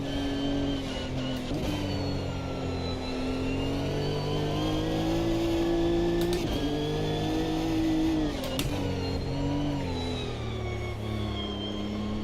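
Race car engine holding a steady high drone through a lap in Automobilista 2, pitch rising and falling with brief gear-shift dips, loud and continuous with no talk.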